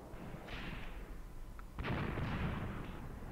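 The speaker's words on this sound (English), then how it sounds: "oh no, wait, actually they may have been my mortars. I thought the Russians were mortaring me here" Mortar fire in a WWII tactical war game set around Kharkov in 1942: distant muffled thuds and a rolling explosion rumble, fairly faint, with no talk.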